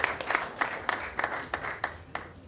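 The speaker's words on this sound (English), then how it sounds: "let's clap for this mighty honor of this particular office" Audience at a university Lawyers' Day event applauding in slow, rhythmic unison claps, about three per second, with a light wash of scattered clapping between beats, moderately loud and fairly close.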